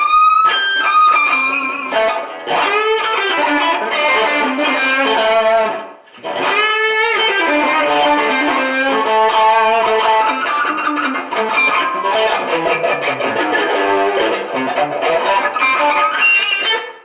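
Distorted electric guitar playing ringing, whistling harmonics in a continuous phrase, with one brief pause partway through.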